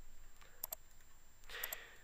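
Typing on a computer keyboard during slide editing: a few soft, isolated keystroke clicks in two small pairs, quiet against a faint room hum.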